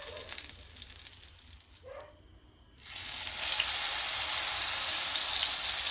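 Brinjal slices frying in hot oil, a continuous bright sizzle that dips briefly into a lull before surging back louder and steady, close up with no talking.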